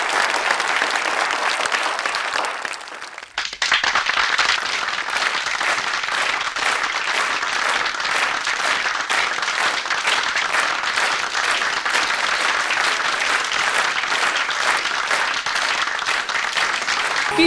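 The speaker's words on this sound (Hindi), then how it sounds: "तालियों से स्वागत कीजिए प्लीज।" Sustained, loud audience applause greets a showstopper named Liza, a performer at a stage show, dense clapping continuing steadily after a brief dip near the start.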